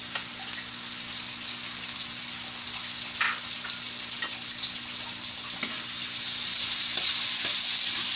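Mushrooms sautéing with softened garlic and onion in a pan, a bright steady sizzle growing slightly louder over time, with a few faint stirring scrapes and a low hum underneath.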